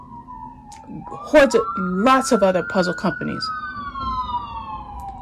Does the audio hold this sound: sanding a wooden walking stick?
no